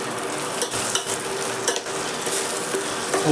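Banana flower curry ingredients sizzle and fry in hot oil in a pan, with steady crackling and a few stirring scrapes, close and alone.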